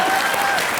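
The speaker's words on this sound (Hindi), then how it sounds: "जोरदार तालियां मेरी एक्टिंग के लिए हो जाए" A comedy show studio audience claps loudly and continuously for a short burst, dense and uniform with no break.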